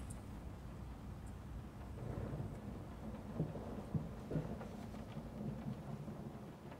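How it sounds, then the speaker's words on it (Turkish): Steady rainfall with low rolling thunder in the Layers of Fear horror game, a soft continuous wash with a few duller rumbles and knocks, faint and distant. "O yağmur sesiydi ya. Biraz huzur veriyordu en azından."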